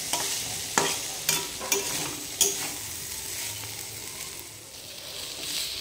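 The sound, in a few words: stir-frying agra data stalks in pan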